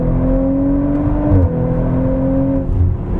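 An Audi RS4 Avant B9 with a 450 PS engine accelerates hard out of a right-hand curve, its steady rising engine note loud and close from inside the cabin, with a brief shift partway through and no talk.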